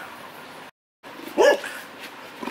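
Dogs in a backyard give a short burst of barking at mid-clip, fairly close, over light background noise after a brief silent gap.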